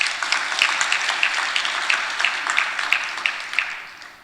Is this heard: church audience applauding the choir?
yes